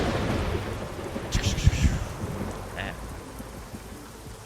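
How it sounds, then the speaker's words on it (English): Rolling thunder rumbles low and close over a steady rainstorm hiss in a driving game, swelling in the middle and fading, with a brief spoken word. "Gotta love the thunder."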